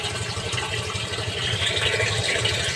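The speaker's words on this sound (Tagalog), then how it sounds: "dali ram na siya mapuno kay kusog ang tubig" A strong stream of water runs from a tap into a container, a steady hiss and rushing gurgle that swells slightly toward the end, with a faint low hum underneath.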